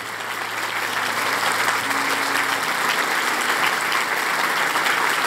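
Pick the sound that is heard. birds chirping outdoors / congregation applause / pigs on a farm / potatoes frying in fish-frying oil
congregation applause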